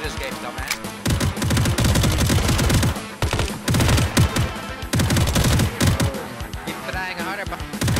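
Rapid bursts of automatic gunfire in the survival shooter game Unturned, loud dense volleys with brief gaps between strings of shots, close and punchy throughout.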